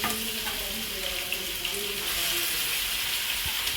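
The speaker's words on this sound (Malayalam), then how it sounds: "ചൂടായിട്ടോ നമുക്ക് മീൻ ഇതിലേക്ക് കൊടുത്ത് വറുത്തെടുക്കണം" Fish sizzles steadily in hot oil in a pan while being fried for an Angamaly-style fish pickle, a close, continuous crackling hiss with no talking.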